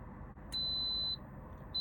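An electric pressure cooker gives a long, steady high-pitched beep, then a pause and the start of a second beep, over a low background hum inside a small campervan.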